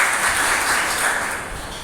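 Audience clapping for itself at the opening day of a week-long yoga program, a dense, steady patter of many hands that holds evenly and fades slightly toward the end, with no voices over it.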